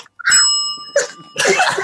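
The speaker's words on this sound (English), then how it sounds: "Ring the bell" A bell is struck once, its bright ringing tone sustaining for under a second, followed by a short burst of noisy sound; close and fairly loud, with no talk over it.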